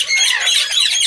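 Loud, harsh squawks from a pair of Amazon parrots overlapping in a continuous, close burst of shrill calls.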